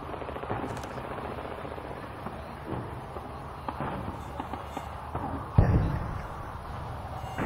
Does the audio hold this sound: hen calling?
no